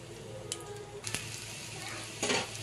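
Poppy seed fritters (posto bora) frying in hot oil over a medium-low flame, a close, steady sizzle with a few sharp crackling bursts; faint voice underneath.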